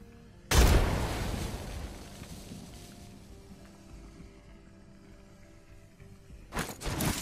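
A frag grenade exploding in Apex Legends: one sharp, loud blast with a long rumbling tail fading over several seconds, followed by a few faint gunshot-like cracks near the end.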